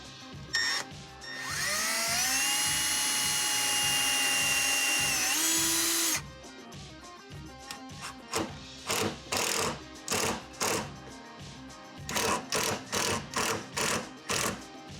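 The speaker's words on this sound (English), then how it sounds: "I'm going to pre-drill the holes in the slots" A power drill pre-drills holes in the slots of a kitchen cabinet, first in one long whining run, then in a string of short trigger bursts, close and loud with no voices.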